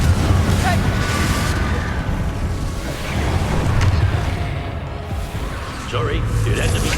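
Repeated Confringo blasting-spell explosions in the Hogwarts Legacy video game, dense booming bursts layered over continuous rumbling combat noise throughout, with shouted spell voices mixed in.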